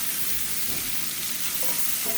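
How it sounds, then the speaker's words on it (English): Leftover chicken is stirred into a paleo cauliflower hash in a cast iron pan, giving a dense, continuous close sizzle of hot grease and oil with faint spoon movement. "I'm just going to stir that in"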